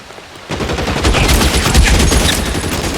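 Sustained heavy gunfire in the detective game L.A. Noire, a continuous loud volley of rapid shots starting after a half-second lull and running to the end.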